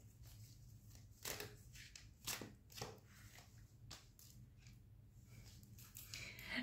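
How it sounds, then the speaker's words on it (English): Tarot cards are shuffled by hand in a quiet room, giving faint, scattered riffles and crisp slaps of card stock that come in short bursts separated by brief pauses. "I'm shuffling more cards to see what else is gonna come."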